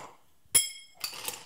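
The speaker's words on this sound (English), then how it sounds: "Then we're just going to add our ice" Ice drops into a cocktail glass for a rye whiskey drink: one sharp, bright clink, a short pause, then a looser rattle of cubes settling, close and clear with no talking.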